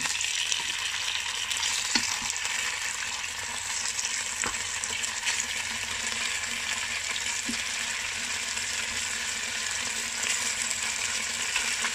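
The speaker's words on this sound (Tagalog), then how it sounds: "itong marinated ribs naman ang ipapry" Marinated pork spareribs fry in hot oil with a steady, dense sizzle that holds loud and even for the whole stretch, broken by a few faint clicks of utensils.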